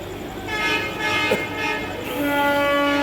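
A train rumbles nearby at a station on the Tarakeswar route during a crowded pilgrimage season, with a loud, sustained horn and tonal rail noise, building in volume toward the end.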